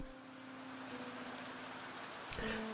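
Rain falls steadily in the video game Fallstreak as a faint, even hiss that carries on without a break, with a low hum underneath and no voices.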